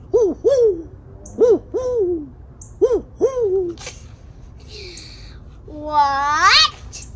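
An owl hoots in short, repeated bursts, some paired, loud and close, ending with a longer, rising hoot, and no one speaks.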